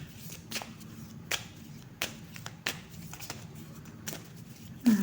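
A deck of oracle cards is shuffled by hand in a quiet room, giving a series of soft, brief riffles and taps at irregular intervals, with a louder flick near the end.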